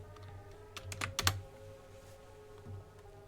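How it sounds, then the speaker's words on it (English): Quick, crisp keystrokes on a computer keyboard, a brief flurry of taps clustered near the middle, heard close over a low, steady background hum. "Oh, seriously, can I just type properly?"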